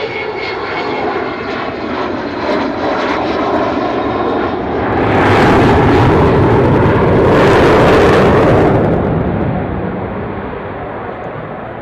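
A large fixed-wing aircraft approaching to land with its landing gear down, a loud engine roar that builds and swells to a peak midway before easing off, with no talking.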